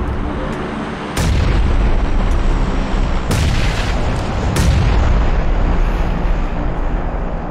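Grenade blasts in PUBG, three sharp, loud booming explosions spaced a couple of seconds apart, rising over a steady rumbling backdrop of game noise.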